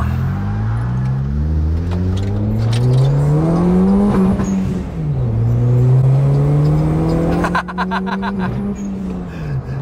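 A Brio Turbo car engine revs up repeatedly to the rev limiter through the gears on a toll road, climbing in pitch and dropping as shifts occur, loud and close from inside the cabin.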